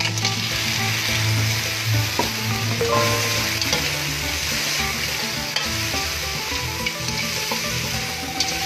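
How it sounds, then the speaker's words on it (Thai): Field crab stir-fried in a wok, headed for an American-style sauce, gives a loud, steady sizzle with a few sharp clanks of a utensil against the pan throughout. "ดองเฮาแล้วใส่ปูลงไปเลยครับ"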